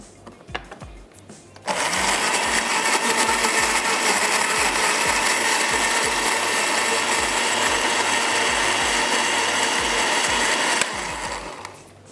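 Blender pureeing tomatoes with water for a mutton balti gosht, running as a loud steady whir from about 2 to 11 seconds, with kitchen clatter before and after.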